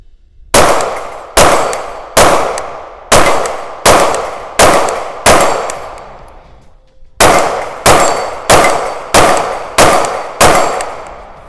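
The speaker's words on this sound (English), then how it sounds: "we're gonna shoot this plate rack in front of me" A KRISS Vector in 10mm Auto fires 180-grain jacketed soft point rounds at a close steel plate rack: two strings of about seven sharp shots each, every report followed by a ringing metallic clang, with a brief pause between strings.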